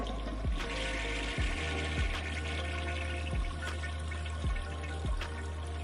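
An airplane toilet flushing in Microsoft Flight Simulator gives a continuous loud rush of running water with a low hum underneath, broken by several soft, regularly spaced low thuds.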